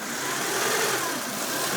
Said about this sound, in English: Alright, I am at idle, engine's warm.